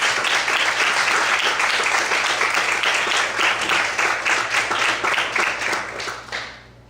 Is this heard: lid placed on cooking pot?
no